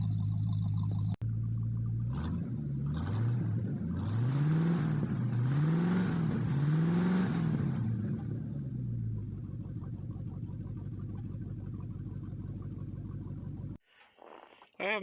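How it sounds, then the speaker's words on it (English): A 1976 Ford Gran Torino with a detuned late-70s 400 V8, C6 automatic and stock exhaust with a glasspack rumbles at idle with a few revs rising and falling, steady low drone, then cuts off near the end. "Doesn't sound bad for the stock exhaust with the thrush glass back."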